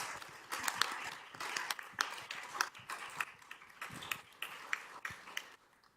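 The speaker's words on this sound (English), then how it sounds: "Let's give a big round of applause to welcome her." Audience at a board meeting applauding to welcome a speaker, a faint, continuous patter of many hands clapping with a few sharper claps standing out.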